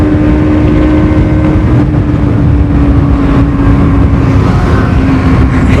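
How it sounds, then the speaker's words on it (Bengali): A loud superbike roars past close by on a Sunday ride, a sustained dense engine howl at full throttle that holds steady throughout with no voices. "ফ্লাই বাইটা কিন্তু আলাদাই মারলো, যে কেউ কিন্তু ভয় পেয়ে যাবে"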